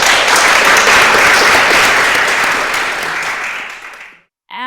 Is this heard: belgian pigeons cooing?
no